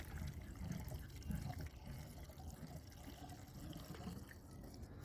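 Oil mix pours fast from the spigot of a can onto rocks outdoors, a steady gushing, splashing liquid stream that stays loud and close throughout without pause.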